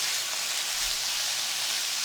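Pre-marinated beef, seasoned with salt and black pepper, sizzles steadily in a hot pan as it is stirred, a bright, even hiss with a faint low knock partway through.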